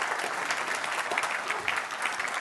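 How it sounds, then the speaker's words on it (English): Audience at an evening event clapping for the People's Kitchen, a dense, steady burst of applause throughout, fairly close and full. "Can we have a round of applause for them actually tonight?"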